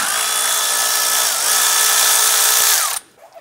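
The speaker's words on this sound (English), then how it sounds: "I'm gonna remove this forward mounted bolt." A power tool whirs steadily for about three seconds, loud and close, while a forward-mounted bolt comes out during an air intake install on a 2001-2005 Honda Civic, then it cuts off abruptly.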